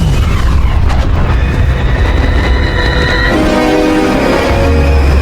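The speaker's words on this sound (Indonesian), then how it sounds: "tiba-tiba bom yang dipasang Korra meledak sehingga tembakan meriam itu meleset" A bomb explodes aboard a ship in the film Rebel Moon Part Two, a deep, rumbling boom followed by a rolling low roar and tonal cinematic effects fading through the rest.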